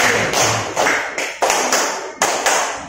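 A ninth-grade class claps in unison in a counted four-clap pattern, producing distinct sharp group bursts with short gaps between them, loud and close.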